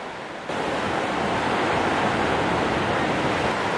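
Ocean surf at Namita Beach on Japan's Rikuchu Coast, a loud, continuous roar of breaking waves with wind noise on the microphone that swells up after a quieter first half-second.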